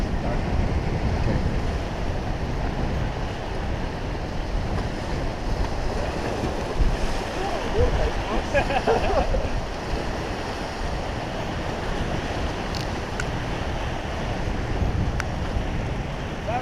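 Whitewater rapids on the Gallatin River in Montana roar as a steady, dense rush of churning water, loud and continuous throughout with some wind noise on the microphone.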